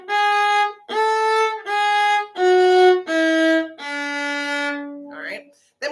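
Viola plays a slow finger-pattern passage of six separate sustained bowed notes, each roughly half a second to a second long, stepping up and down by whole and half steps, clear and close with no talking.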